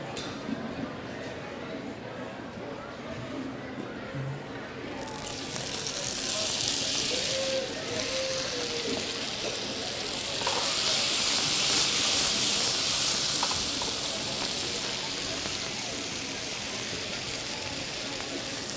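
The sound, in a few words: gnocchi frying in oil in a pan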